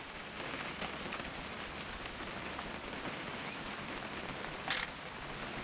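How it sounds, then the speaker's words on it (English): Steady video-game rain pattering on a surface, a dense even hiss throughout, with one brief sharp click near the end. "It's gonna rain the whole weekend"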